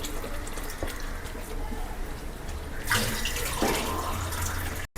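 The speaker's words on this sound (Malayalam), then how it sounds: "നമുക്ക് ആവശ്യത്തിന് വെള്ളം ഒഴിച്ച് കൊടുക്കാം" Water poured into a pan of Kerala-style fish curry made with kudampuli, a steady close splashing pour that swells in its second half, with no talking.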